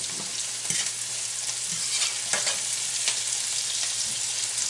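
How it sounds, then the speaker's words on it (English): Chili peppers sizzle and fry in hot oil in a pan, a steady crackling hiss with scattered pops and a few stirring scrapes, close up with no voices. "Put your chili peppers in there, let them all get some heat, and fry it up"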